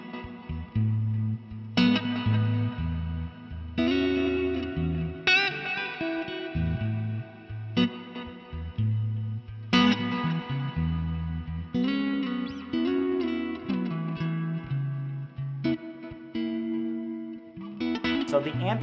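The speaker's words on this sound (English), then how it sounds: "which is a delay and a reverb that the ethereal does, I love it" Electric guitar played through an ambient delay and reverb pedal, close and steady, with picked phrases and chords that bloom into long echoing washes and lingering reverb tails across the whole passage.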